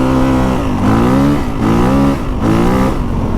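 A new dirt bike engine revs hard with traction control on, repeatedly rising in pitch and dropping back in close, loud cycles of roughly a second each.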